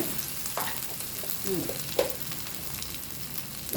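Catfish stir-fries over high heat with holy basil and chilies, giving a steady close sizzle with a few scraping stirs of a utensil against the pan.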